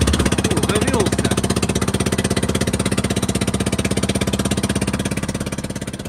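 A Stels Kapitan snowmobile engine runs in freezing winter cold, chugging in a steady, rapid, loud rhythm close by after starting, with a brief voice early on.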